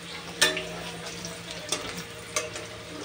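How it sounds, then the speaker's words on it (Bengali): Potato pieces fry in hot oil with salt and turmeric, a soft continuous sizzle broken by three sharp scraping stirs of the pan, with no talking. "আলুটা একটু লাল লাল ভাজা হয়ে আসবে"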